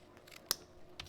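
Scissors cutting black ribbon, a single quick crisp snip followed by a faint double snick, close and quiet in a still room.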